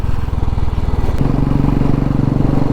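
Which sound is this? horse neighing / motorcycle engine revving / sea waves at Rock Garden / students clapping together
motorcycle engine revving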